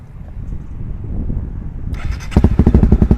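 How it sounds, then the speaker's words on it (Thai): A motorcycle with its original stock exhaust pipe: after a low background hum, the engine starts close by and runs with a loud, rapid, pulsing exhaust beat, with no talk. "เดี๋ยวเรามาฟังเสียงท่อเดิมก่อนนะทุกคน"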